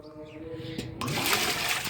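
Water pours and splashes into a container of cow-dung liquid fertilizer for a terrace garden, a soft trickle that turns into a loud, rushing gush partway through.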